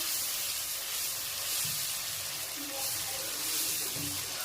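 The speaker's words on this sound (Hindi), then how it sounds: "अब हम इसमें दही ऐड करेंगे। इसको हम अच्छी तरह मिक्स करेंगे" Yogurt stirred into sizzling masala in a pan for a Pakistani chickpea curry gives a steady, soft frying hiss with faint scraping, quiet and unbroken throughout.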